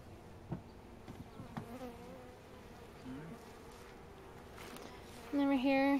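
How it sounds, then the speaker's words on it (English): Honeybees being installed into a new hive give a loud close buzz near the end as one flies right by the ear, after quieter handling noises and faint buzzing. "There's one buzzing right by my ear."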